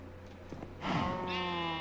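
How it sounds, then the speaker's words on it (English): A cow in Minecraft Skyblock lets out one drawn-out, loud moo close by, rising after a few soft background sounds and holding steady to the end. "Oh, there that stupid cow."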